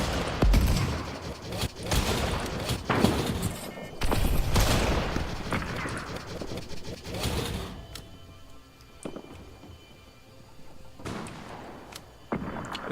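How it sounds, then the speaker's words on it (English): Sniper rifle fire in the video game Fortnite, a few loud cracking shots with rumbling tails amid busy game noise, then quieter sharp clicks and reload sounds. "me and this player is both sending snipes at each other"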